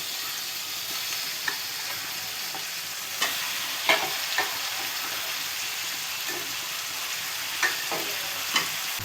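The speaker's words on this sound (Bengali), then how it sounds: "মাছগুলো দিয়ে দিব।" Shrimp and chopped onions frying in oil in a wok give a steady close sizzle, broken by a few sharp clinks and scrapes from stirring, with no voices.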